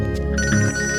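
A telephone ringtone sounds for an incoming call in a Bhojpuri family drama, a steady sustained tone with a melodic shift midway, loud and close, with no talk.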